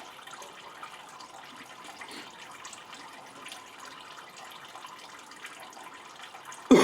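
Fluid from a small block Ford engine in a classic Mustang drains in a steady, faint trickling wash with no pauses, ending in a brief louder knock.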